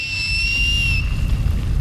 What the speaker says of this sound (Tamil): யாரையா சீட்டி அடித்தது?